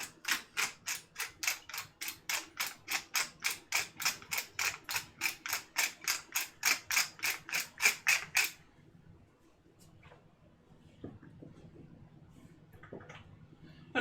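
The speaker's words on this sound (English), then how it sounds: "That's just my normal real salt, but in a grinder, so make sure to get a little bit finer grind on it." Real salt ground in a hand salt grinder: a fast, regular run of about thirty close ratcheting crunches over eight seconds, followed by quiet handling noises and faint clicks.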